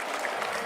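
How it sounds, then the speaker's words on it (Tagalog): Esports crowd applauding at the CS:GO BLAST.tv Paris Major 2023 semifinal, a brief, steady wash of clapping that holds at an even level throughout. "The crowd's loving it, man."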